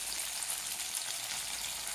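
Tomatoes and coriander frying in a pan for tomato chutney give off a steady, even sizzle and crackle that runs throughout, close and moderately loud, with no talking.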